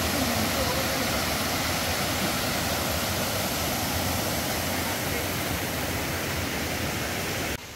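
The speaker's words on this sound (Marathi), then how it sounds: "आता आम्ही खाली आलो, इथे एक झरा आहे, हे बघा तुम्हाला दिसत असेल।" A stream below Neuschwanstein Castle flows steadily with a loud, unbroken broadband rush that stays constant throughout and cuts off abruptly at the end.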